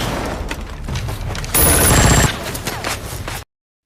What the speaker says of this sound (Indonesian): tembakan sniper memecah udara